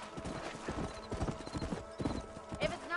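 Horses gallop in the Red Dead video game world, hooves beating in a steady, quick rhythm close by, with a whinny and voices talking over the hoofbeats.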